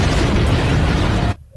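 A missile launcher blowing up in the Bond film Tomorrow Never Dies: one loud, sustained, roaring blast that fills the whole clip, then cuts off abruptly into near silence.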